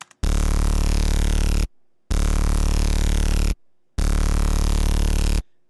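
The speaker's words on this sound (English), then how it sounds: "And then I've just got a simple synth patch here." A simple synth patch from Massive playing three loud, sustained, bright chord stabs of equal length separated by short gaps, with no voices.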